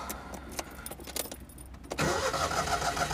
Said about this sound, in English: Usually considered a good idea when starting a car.